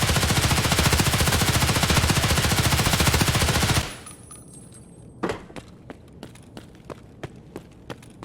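Automatic rifle fire in Escape from Tarkov, a loud unbroken burst lasting about four seconds that stops abruptly, followed by a string of sharp, lighter clicks and taps spaced at regular intervals.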